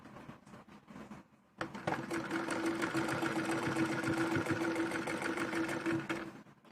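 Sewing machine stitching piping onto white fabric for a jacket, a brief lead-in of handling sounds, then a steady fast mechanical whir and rapid needle clatter running close and continuous for several seconds.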